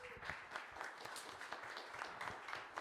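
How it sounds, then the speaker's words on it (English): Attendees at a venture capital panel event clap steadily for a speaker taking the stage. The applause is thick and continuous for about three seconds, with individual claps standing out now and then. "Applause."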